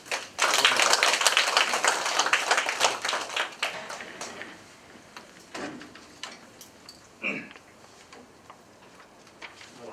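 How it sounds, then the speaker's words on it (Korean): Audience at a neighbourhood residents' general assembly clapping, a burst of scattered hand claps that is strongest early, thins out into sparse, separate claps with a few later taps and faint room noise. "박수 한번 쳐주시죠."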